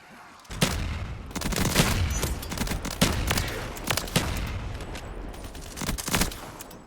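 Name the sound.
gunfire in Black Ops 3 zombies video game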